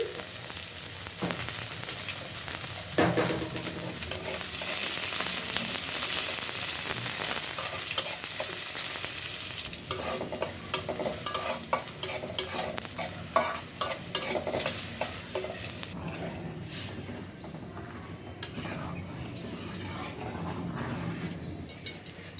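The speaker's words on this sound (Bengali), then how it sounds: "ডালের জন্য যে সম্বারা দিলাম শুকনো মরিচ পেঁয়াজ রসুন" A tempering of dried chili, onion and garlic for dal fries in hot oil, a loud sustained sizzle that grows busier with repeated spoon scrapes and stirring clatter toward the end.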